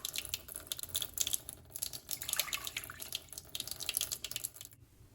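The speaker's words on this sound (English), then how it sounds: "then I add 2 cups of water" Water pours into a bowl of ground dent corn grits, a close, steady splashing and trickling stream with small drips that runs for several seconds before stopping abruptly.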